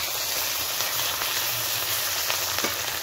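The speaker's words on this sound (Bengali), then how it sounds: "দিয়ে ভালো করে নেড়ে নেওয়া হলো, কষিয়ে নেওয়া হবে ভালো করে" Masala of ginger paste, turmeric, chili and coriander powder fries and is stirred in a pan for desi chicken curry, a steady close sizzle with soft crackles throughout.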